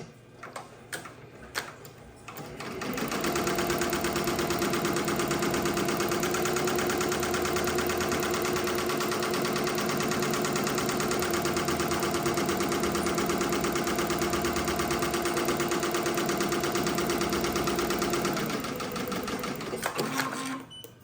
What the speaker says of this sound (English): let's take this back to the embroidery machine